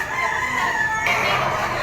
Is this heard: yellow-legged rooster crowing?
yes